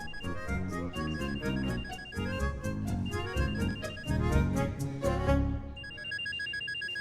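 A mobile phone rings with a repeating electronic ringtone melody, loud and close, playing steadily for several seconds with no talking over it.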